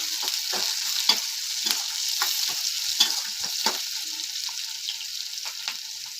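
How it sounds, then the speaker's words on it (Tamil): Steady crackling sizzle of onions sautéing in a pan, with occasional scraping stirs, close and continuous, no talking. "கொஞ்சம் ப்ரௌன் ஆகிற வரைக்கும் வெங்காயம் வதங்கணும்."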